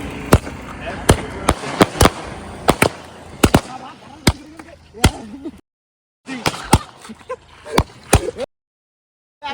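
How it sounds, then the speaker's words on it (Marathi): Firecrackers burst at a birthday celebration after cake cutting: a rapid, irregular string of loud, sharp bangs with brief silent gaps, while people talk and shout in between. "अरे फटाके असे काय फुटले?"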